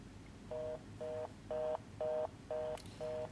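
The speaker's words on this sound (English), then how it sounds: "Now, because it was a busy signal," A fast busy signal on a cellphone call: six evenly spaced tone beeps about twice per second, steady and moderately loud over a hissy line.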